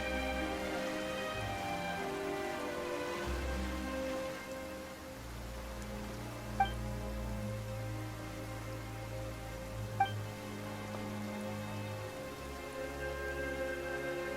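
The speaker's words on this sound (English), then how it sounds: "Why is it raining all of a sudden?" Steady rain falls across a scene in Genshin Impact, a broad even hiss of drops with game music running underneath and two faint chime-like accents along the way.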